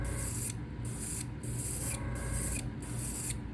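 A crankbait fishing lure is spray painted in a fire tiger pattern with short airbrush bursts, four soft hissing sprays in an even rhythm, close and quiet, with no talk.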